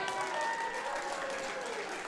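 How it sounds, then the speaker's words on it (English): Steady applause from an MMA event audience, a dense wash of clapping that holds at an even level throughout the short moment. "maybe a big round of applause one more time"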